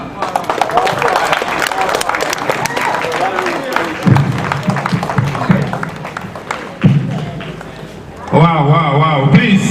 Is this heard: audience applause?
yes